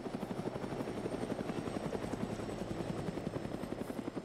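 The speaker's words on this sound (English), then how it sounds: "Everybody out the heli?" A helicopter hovers nearby after troops disembark, its steady rotor thump and engine drone filling the air continuously without any talking.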